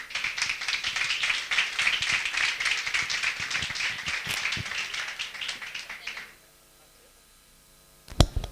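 An audience at a talk applauds to welcome a speaker: dense, even clapping for about six seconds, then it stops abruptly, leaving quiet and a final sharp knock.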